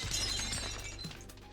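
A digital shattering effect in the Marvel Legendary card game, a bright glassy crash that spreads out and decays over about a second and a half.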